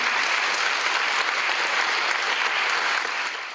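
Dense, steady applause from an audience at a closing evening event, many hands clapping loudly and continuously before tapering slightly at the end.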